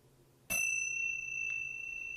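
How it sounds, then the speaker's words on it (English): Meditation chimes ring once to clear the space before yoga practice, a bright struck metallic tone that rings on clearly and sustains through the quiet room, with a faint second touch shortly after. "I'm going to start by using my chimes"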